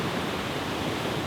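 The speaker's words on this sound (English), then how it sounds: "Not really able to get much of a shot of the waterfall here." A misty waterfall on a California hiking trail roars as a constant, dense wash of noise, steady and fairly close, with no voices.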